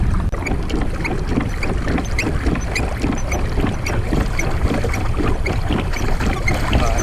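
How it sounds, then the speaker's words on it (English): A Lightning Kayaks Kick 106 pedal-drive kayak heads into the wind, with loud steady wind buffeting and rushing water against the hull plus a rhythmic churning from the pedal drive, close up, no voices. "let's see what kind of top speed I can get with the pedal drive"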